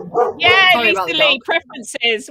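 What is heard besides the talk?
dog barking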